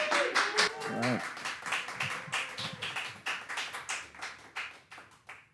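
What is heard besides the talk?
audience applause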